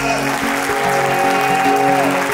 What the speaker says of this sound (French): La salle, est-ce qu'on peut applaudir pour Amina Gerba, s'il vous plaît?